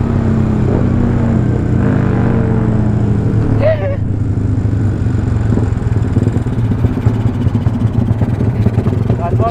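A motorcycle engine idles roughly and unevenly, close by, as if about to stall. Someone talks over the low, clattering rumble.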